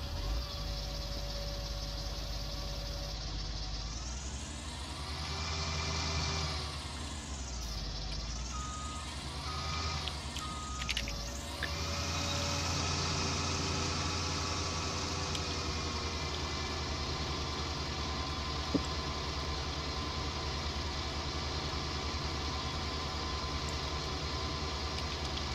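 A combine harvester's engine in the Farming Simulator game drones steadily, a loud, constant low mechanical hum with sweeping pitch shifts early on as it starts and revs, then settles into an even running tone with no talking.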